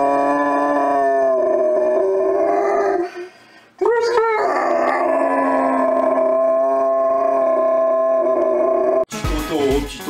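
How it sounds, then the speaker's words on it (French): A dog howls in long, loud, wavering tones for several seconds, with a brief yip and a short break in the middle, ending with a burst of other noise. "tu fais chialer mon chien avec tes conneries"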